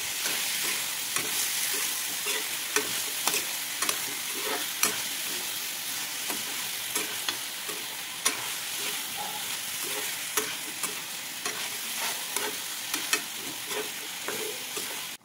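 Chicken fries in a pan with a soft continuous sizzle, broken by frequent sharp crackles, pops and scraping stirs, close and fairly quiet.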